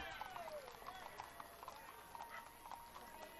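Horse hooves clip-clop in a steady rhythm on pavement during an Independence Day parade, faint and somewhat distant, with crowd noise and voices underneath.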